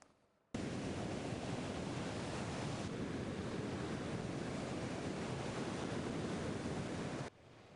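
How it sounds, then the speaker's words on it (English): High surf crashing ashore at Redondo Beach on the California coast, a loud continuous roar of breaking waves and rushing water that starts abruptly and holds steady, with no voices. "big waves crashing ashore in Redondo Beach as the high surf that's battered the California coast for days continues"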